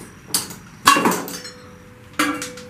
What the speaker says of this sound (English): You stick your ratchet on there and you got to loosen it up.